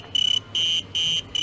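A miner safety suit's alarm buzzer sounds in repeated shrill electronic bursts, some pulsing rapidly and others held steady, close and loud with nothing else around it.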